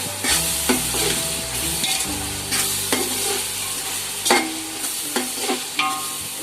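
Ginger garlic paste sautéed in oil for a large chicken biryani, sizzling steadily while a spoon stirs and scrapes the pan with periodic clanks, close and fairly loud, no talking.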